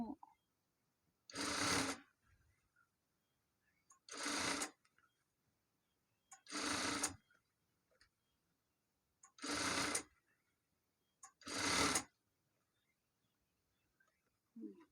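A sewing machine stitches elastic onto a sleeve cuff in five separate short runs, evenly spaced with quiet gaps between them. Each run is a close, whirring burst.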